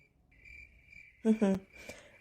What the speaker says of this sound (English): Lola, have the crickets always been this loud here?